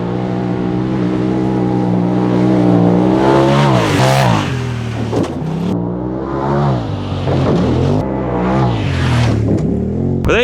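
A Polaris RZR Turbo R four-seater on 37-inch tires revs hard for a jump, its loud engine climbing and dropping in several sharp surges and swoops, alone without talk.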